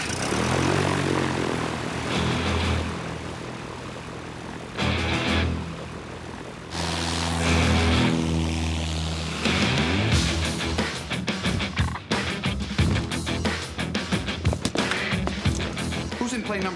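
A small propeller airplane flies overhead at a flying school, its engine droning steadily with rising and falling pitch as it passes, while people talk and background music plays.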